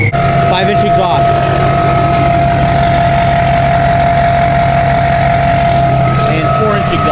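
A Duramax 2500 HD pickup truck with a five-inch exhaust runs close and loud, a steady diesel rumble topped by a high turbo whistle that continues throughout.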